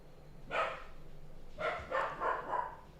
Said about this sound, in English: He's in there barking now.